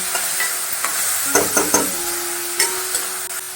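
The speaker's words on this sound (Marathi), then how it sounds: "लसूण असा गुलाबी झाल्यावर मी कांदा घातलेला आहे बघा" Onion frying in a pan with garlic that has already browned, for a fenugreek and mixed dal dish: a close, steady sizzle with a few sharp scrapes and knocks from stirring.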